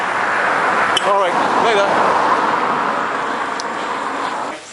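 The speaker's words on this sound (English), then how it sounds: "here comes some more cars." Cars passing on a road during a training walk, a steady roar of nearby traffic sweeping by, with a voice speaking briefly over it.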